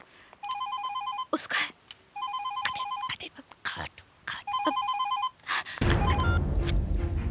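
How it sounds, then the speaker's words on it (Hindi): A telephone rings in repeated electronic bursts, three distinct ringing patterns separated by short gaps, with people talking in between and over it in a comedy scene. "मैडम आपका फोन।"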